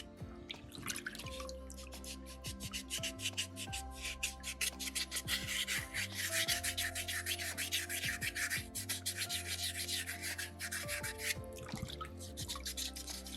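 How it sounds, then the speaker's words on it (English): Soapstone skull carving being sanded by hand, sandpaper pushed around under the thumb: a steady, close rubbing and scratching in quick repeated strokes that runs throughout, with a few small knocks. "I use my thumb quite a bit, pushing my sandpaper around."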